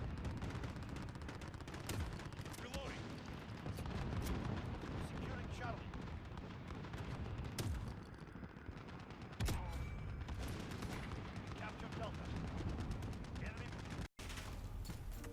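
Repeated shotgun blasts in Call of Duty: Modern Warfare crack out in steady bursts over a dense, continuous battle din, loud and close, with a voice talking over much of the action.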